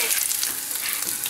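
Pork chops frying in a pan with mushrooms and dry white wine give a brief, close, steady sizzle with bright hiss and no voices.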